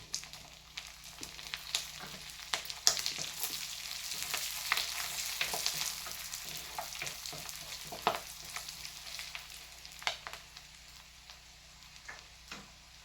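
Cumin, slit green chillies and curry leaves spluttering in hot oil for an egg kurma, a continuous crackling sizzle full of small pops and occasional stir clicks, close but fairly soft, with no talk.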